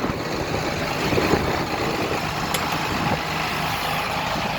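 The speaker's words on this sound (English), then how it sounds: "the tractor's doing good" A tractor engine runs steadily in a field while the ground is prepared for wheat, a continuous broad rumble holding at an even level with no talk.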